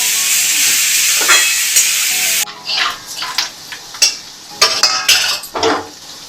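Pumpkin roasting in a generous amount of ghee in a pan, heard as a steady hiss for the first couple of seconds, then a spoon stirring and scraping with clinks against the pan.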